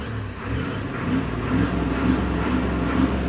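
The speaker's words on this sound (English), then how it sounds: "Can I blip the throttle?" Rally car engine at a WRC Rally Estonia start, throttle blipped while in neutral, a steady loud rumble that swells slightly with each press of the pedal, close by and not masked by talk.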